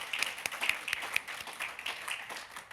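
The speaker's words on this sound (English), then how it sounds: "please join me in giving a round of applause to our final panel" Applause at a workshop for a final panel: a small audience claps steadily for a few seconds, quite faint and from a distance, with sharp individual claps standing out from the rest.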